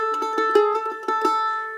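A mandolin playing potatoes, the fiddle-style count-in that starts a song: a short run of quick, evenly spaced plucked double-stop chops ringing close and clear for under two seconds.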